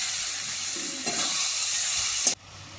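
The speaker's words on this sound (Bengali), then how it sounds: "এবার ওই তেলেই আমি এই ম্যারিনেট করা চিকেনটা ভেজে নেব, মানে একটু কষিয়ে নেব।" Marinated chicken fries in hot oil with a steady, loud sizzle and hiss, close up, with brief scraping stirs before the sound suddenly drops away near the end.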